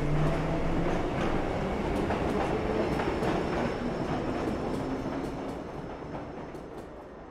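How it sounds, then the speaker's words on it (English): A train rolls along in the Assassin's Creed 3 video game, a steady rumbling roar with faint rhythmic clacking and a high whine, loud at first and slowly fading away. "Where can the train go?"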